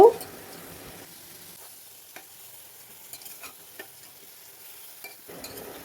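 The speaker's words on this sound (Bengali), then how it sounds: "এবার আমি পেস্টটা দিয়ে দিলাম। 2-3 মিনিটের মতো নেড়ে নেব।" Spice paste being stirred into pumpkin pieces frying in a pan, a soft steady sizzle with scattered light scrapes and clinks of the spoon, louder at the start and end, no talking.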